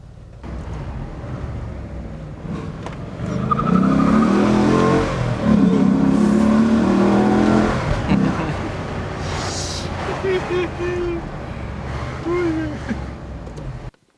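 A Maserati 4200GT engine fires back up after a restart and revs repeatedly, a loud, close, rising and falling roar that holds steady between throttle blips and settles toward idle at the end.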